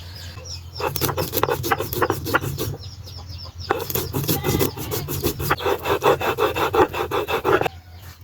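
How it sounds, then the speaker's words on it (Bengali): Whole spices, including cinnamon, cardamom, cumin and peppercorns, ground by hand on a grinding stone in a village kitchen, heard as close, rhythmic rasping strokes in quick repeated bursts with brief pauses between. "বেটে নিব দারচিনি এলাচ নং কাঁচা জিরা ও কয়েকটা গোলমরিচ"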